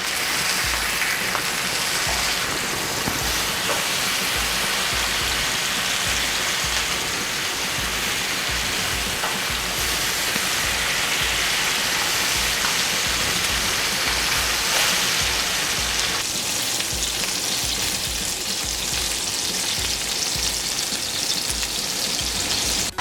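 Herb-seasoned lamb chops sizzle loudly and steadily in a hot skillet, a dense, unbroken frying hiss that carries on without pause and with no voices.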